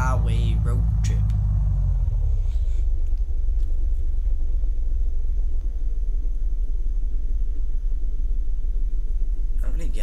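A car drives down a highway in the video game Unturned, a constant loud, low engine rumble that sweeps downward at the start and then holds steady, with a brief voice near the beginning.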